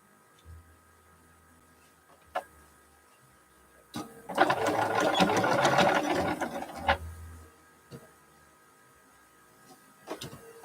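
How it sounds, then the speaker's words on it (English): A sewing machine stitches quilt sashing pieces together in one steady whirring burst of about three seconds, framed by a few soft clicks and handling noises in an otherwise quiet room. "Now let's sew this one together."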